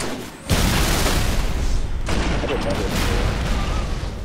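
A grenade blast in Halo 3 multiplayer booms in at once and leaves a rough, roaring wash of explosion and gunfire noise that holds for several seconds, with brief talk over it.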